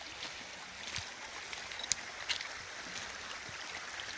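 Small clear river in summer near Novosibirsk, a steady soft rushing and trickling of water with faint splashes, heard alone and fairly close.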